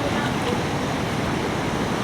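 Strong rushing water swollen after rain, a dense steady roar of flow that stays loud and continuous throughout with no break.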